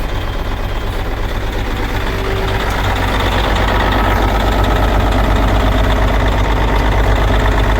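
A tractor diesel engine missing a couple of injectors idles roughly, its steady low rumble loud and close with an uneven knocking beat and no talk.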